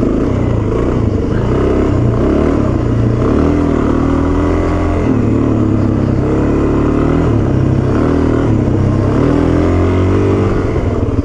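A Suzuki DRZ dual sport motorcycle rides off-road trails in the Anza Borrego desert, its engine droning loud and steady throughout with shifting revs and rough clatter from the terrain.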